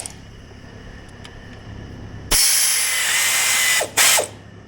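Socket wrench ratcheting while a new starter is fitted on a skid steer: a quiet lead-in, then a loud, sustained burst of rapid ratchet clicking followed by a second short burst, close up with no talk.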